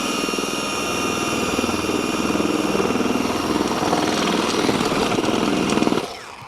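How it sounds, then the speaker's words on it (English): A double flight auger bit spins in frozen ground, its powered engine droning loudly and steadily with a pulsing whine for several seconds before the motor winds down at the end. "It's trying to auger itself in, and it's not able to kind of chip that frozen ground."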